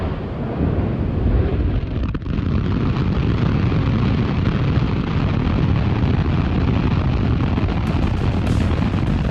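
A SpaceX Starship rocket engine ignites with a massive, continuous rumbling roar that fills everything and stays loud and even throughout, with no talking over it.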